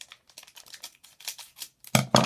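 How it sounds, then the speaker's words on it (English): Scissors snip through the foil wrapper of a 2014 Score football trading card pack. A quick run of small, crisp cuts and crinkles sounds close and fairly quiet, ending in two louder snips. "I might need my scissors for this."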